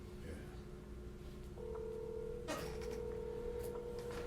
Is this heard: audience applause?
no